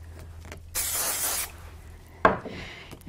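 A quick burst of spray adhesive hisses onto craft card for under a second, followed after a pause by a sharp handling knock and a softer shuffle close to the microphone.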